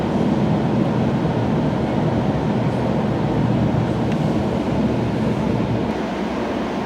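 Stadler train on Ottawa's O-Train Line 2, a steady loud rumble of wheels and motor filling the whole stretch, with a broad low roar and hiss that stays constant throughout.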